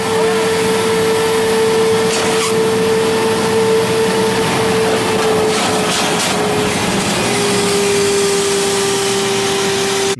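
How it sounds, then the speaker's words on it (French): A wet vacuum sucks out the clogged condensate drain siphons of a refrigerated display unit blocked by gelatinous matter, giving a loud, steady suction roar with a constant whine that runs unbroken throughout. "Donc là, j'aspire dans les siphons et je constate que l'eau ne s'écoule pas comme elle devrait s'écouler"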